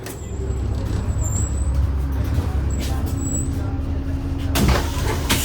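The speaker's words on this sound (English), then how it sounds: "I'm just now waiting for a bus back, specifically the 1240 number 6." A number 6 city bus in Lincoln pulls up over a low engine rumble, with an air-brake hiss and the doors sliding open near the end. Brief voices are heard close by.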